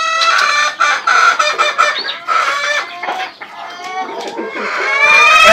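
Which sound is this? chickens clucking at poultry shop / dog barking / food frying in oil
chickens clucking at poultry shop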